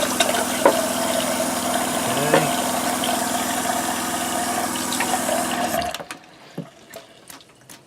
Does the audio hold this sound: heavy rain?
no